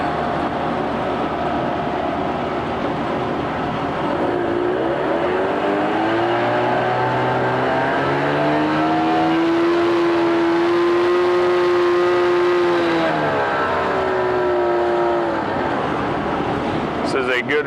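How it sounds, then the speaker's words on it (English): A 1988 Mercury 25 hp tiller outboard with electric start runs continuously, a steady droning motor that revs up into a rising whine, holds, then settles back to idle. "This is a good running freshwater engine."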